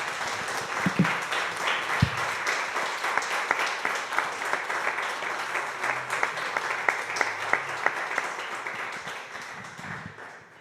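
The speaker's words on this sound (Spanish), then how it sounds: "Le damos un fuerte aplauso al Señor," A church congregation claps together in sustained applause, a dense steady wash of hand claps with a few sharper claps standing out, nearby and moderately loud, with no talk over it.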